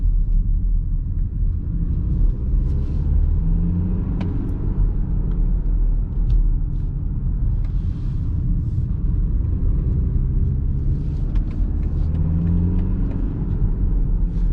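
A BMW X4 M Sport xDrive 20d diesel drives in sport mode, heard from inside as a steady low engine and road rumble with a continuous whirring drone and no speech.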